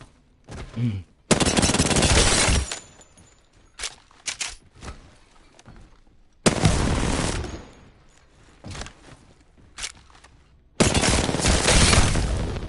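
Automatic weapon fire in Apex Legends: three loud sustained bursts of rapid shots, each lasting a second or more, separated by quieter gaps with scattered clicks and faint game sounds.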